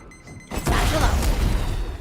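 A Raze satchel charge goes off in Valorant, a sudden loud blast that cuts in after a quiet moment and rolls on as a dense, rumbling wash of debris and noise for over a second.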